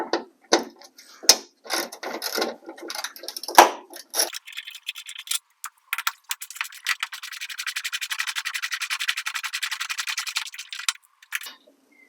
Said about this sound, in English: I'm going to go ahead and start taking these bolts out. I'll be using a 10mm socket and a ratchet.